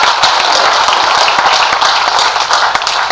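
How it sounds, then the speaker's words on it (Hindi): Audience in a legislative house clapping along during a Hindi poetry recital, steady dense applause with sharp individual claps throughout, loud and close, no talk over it. "एक बार पूरा सदन मुझे तालियां बजाकर आदेशित कीजिएगा"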